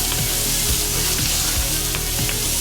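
Red and green peppers with onion frying in a pan for Italian-American chicken, a steady close sizzle with occasional light stirring clinks, no talking.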